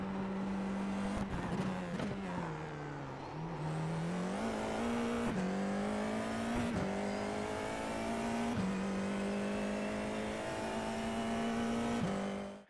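An FIA F4 race car in a racing video game accelerates hard out of the Long Beach hairpin, its engine note climbing steadily through repeated gear shifts, loud and close, with no other sounds.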